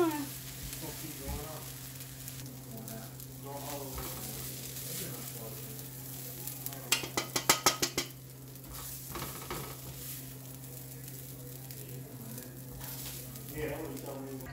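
Shrimp and chicken fried rice being stir-fried, with a soft steady sizzle under a constant kitchen hum, a quick burst of clattering utensil strokes in the middle, and a person talking quietly throughout.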